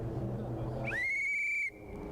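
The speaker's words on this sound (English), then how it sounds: "use your whistle to warn people" A single sharp, high warning whistle blast from a rally marshal rings out for about a second over steady low rumbling background noise, then cuts off abruptly.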